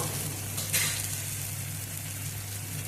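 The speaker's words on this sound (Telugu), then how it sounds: "టమోటా మగ్గుతుంది." Tomato pieces cooking down in a hot pan for yellow cucumber chutney, a steady close sizzle and frying hiss running throughout, with one brief louder spatter early on and no talking.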